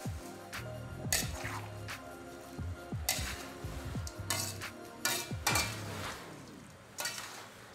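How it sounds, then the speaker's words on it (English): Fried potatoes stirred together with other vegetables in a bowl for Turkish iftar cooking, giving a steady run of clinking utensil scrapes and knocks against the dish, close and moderately loud, with no talk. "Add the fried potatoes to other vegetables and mix."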